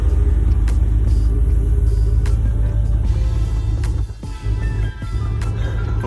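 A 2006 Chevrolet Impala SS engine idles after starting, with a steady, close, low rumble that dips briefly a couple of times before settling back.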